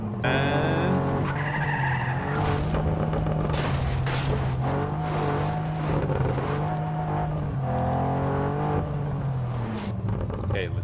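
A car drives hard and skids in the open-world game Just Cause 3, its engine drone loud and continuous with repeated tire squeals and scraping slides layered over a steady game soundtrack.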